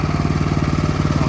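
A Honda HSS928A electric-start snowblower engine runs steadily close by, a throbbing mid-pitched putter with an even, rapid pulse and no voices.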